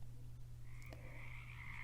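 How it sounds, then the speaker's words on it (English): Frogs croak in woods of birch, poplar, pine and sugar maple: a constant low trilling chorus with a higher, drawn-out croak rising over it partway through, no voices. "The songs of happy frogs echo through the trees."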